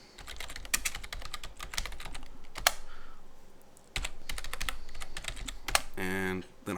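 Rapid clacking of a computer keyboard, bursts of keystrokes with short pauses, close and crisp in a quiet room, with a brief different noise near the end.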